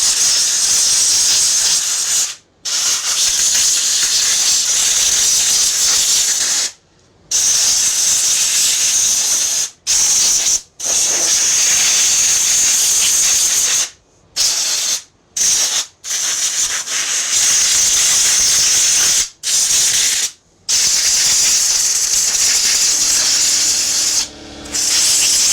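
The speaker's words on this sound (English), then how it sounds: "we'll come back when the compressor shuts off" An air compressor runs loud and steady during repair of a Craftsman 5hp rear tine tiller, a continuous hissing drone broken by several brief gaps, with no talk over it.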